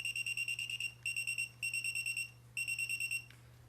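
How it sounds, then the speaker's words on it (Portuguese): An infrared remote control tester, used for checking TV remotes, emits rapid bursts of high electronic beeps in four quick clusters, each a string of short pulses, over a low steady hum. "Então ele bipa de acordo com o controle remoto."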